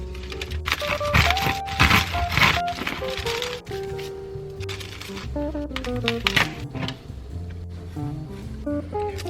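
A knife sawing into the crust of a homemade sourdough loaf, a close series of crackly crunches and scrapes with soft thuds, busy and irregular throughout.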